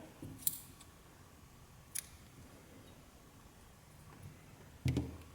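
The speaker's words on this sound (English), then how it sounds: "Now go ahead and cut your yarn." Scissors snipping yarn during a crochet project, three or four faint, sharp close-up cuts spaced a couple of seconds apart in a quiet room.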